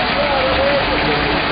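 Rain falls on the streets of İnegöl, Turkey, as a steady, dense hiss that fills the whole clip. A faint voice may sit underneath it.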